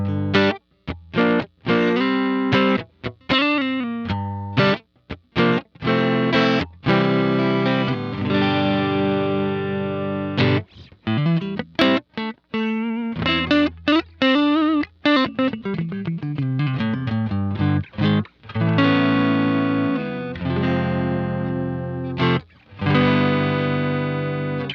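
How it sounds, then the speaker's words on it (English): Electric guitar played through a Donner DST-400 multi-effects pedal with overdrive, heard as loud, gritty distorted chords and single notes in short phrases with brief gaps, alone with no speech. "now let's add a little bit of overdrive"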